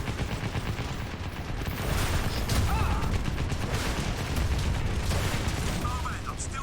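Dense, continuous gunfire from the Crysis video game rattles on throughout, rapid bursts blurring into one another under a dull rumble, with a voice speaking over it.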